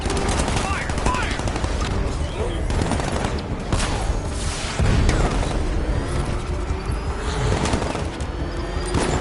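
Gunfire in the Batman: Arkham Knight video game, dense rapid bursts of automatic weapons mixed with booms and impacts that continue without pause, with shouting voices partly heard underneath.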